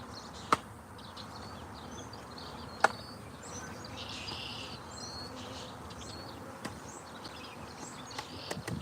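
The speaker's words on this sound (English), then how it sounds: "I'm going to dump the rest of the bees over here." Honey bees buzz as they are dumped into a new hive, a faint steady drone of many insects with a few sharp knocks and thumps from the equipment.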